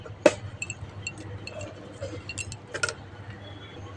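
A metal lid is set onto a cooking pot of potatoes simmering in water for a fish curry, giving one sharp, bright clink near the start and a softer clatter later over a low, steady kitchen hum.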